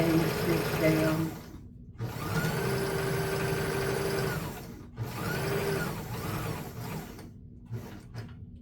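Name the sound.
sewing machine stitching a quilted mug rug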